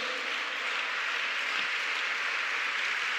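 A church congregation applauds during a Spanish-language sermon, a steady wash of many hands clapping at a moderate distance, sustained without a break and with no voices rising above it.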